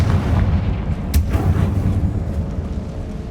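Confringo fire spells bursting in Hogwarts Legacy, a dense booming blast that rolls on with low rumbling and a sharper crack midway, loud and close with no talk.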